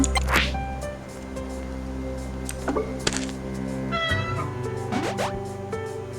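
Cat meows in the video game A Space for the Unbound, heard over steady game music along with soft plops and little interface blips.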